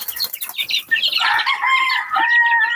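Backyard chicks about four weeks old chirp and peep in a busy, overlapping chorus, high-pitched calls tumbling over each other close by, with a few longer sustained cheeps near the end.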